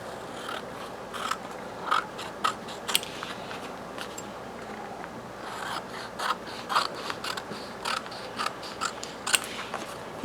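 Scissors snip through a travel brochure postcard in a series of short, crisp cuts with irregular spacing, close and fairly quiet against a soft background.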